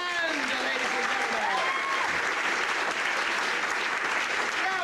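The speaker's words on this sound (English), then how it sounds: "how about a nice round of applause for" Pantomime audience in a community theatre claps steadily for the band, a full wash of applause with voices faintly audible underneath.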